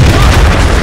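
A King Tiger tank's main cannon fires in the Steel Fury combat game, one loud, heavy, booming blast that fills the short moment with dense low rumble, up close and alone.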